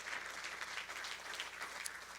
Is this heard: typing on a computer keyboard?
no